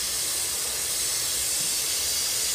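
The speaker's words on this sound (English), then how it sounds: "So I'm just gonna spray, if I can quit moving it," A continuous loud hiss of spray paint from an aerosol can painting lowrider car patterns, steady and close, with no pauses.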